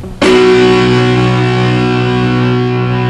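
A loud electric guitar chord on the sixth and fifth strings through amp distortion, struck once and left ringing, sustaining thick and buzzy as it slowly fades.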